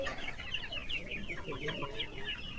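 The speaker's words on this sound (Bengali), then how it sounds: "এই এখন মুরগিটা ওয়েট করা হবে" A Sonali chicken on a village farm clucks in quick, agitated bursts while being weighed, the calls fairly close but soft against faint background noise.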